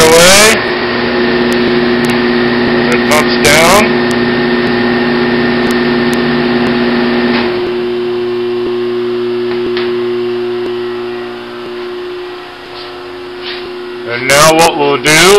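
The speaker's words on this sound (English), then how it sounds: "Condenser will shut off right away. It pumps down." An Irinox blast chiller hums steadily with its condenser running, then the condenser shuts off and pumps down, leaving a quieter, fading hum before sharp clicks at the end.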